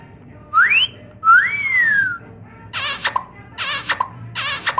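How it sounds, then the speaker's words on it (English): Two rising wolf whistles, each a bright upward swoop, followed by three quick kissing smacks, all made by a man's mouth at close range with nobody speaking in between. "we're going to get out a big, juicy kiss and wolf whistle to these gals"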